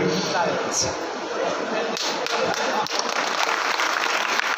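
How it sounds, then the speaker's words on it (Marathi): A kirtan audience claps in a dense, steady round of applause that continues throughout, loud and close, with occasional sharper individual claps and faint voices mixed in. "तुम्ही टाळ्या वाजवल्या"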